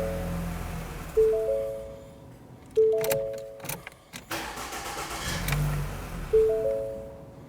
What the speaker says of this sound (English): Now you want to start your engine and let it run until the engine shuts off